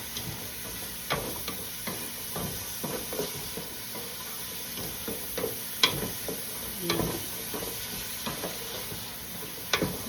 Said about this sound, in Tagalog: Ligisa muna natin yung mga gulay.